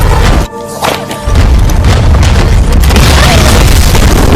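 A grenade explodes in an action film about special forces rescuing hostages, a loud, heavy boom that cuts in after a brief lull, then a sustained roar of blast and debris.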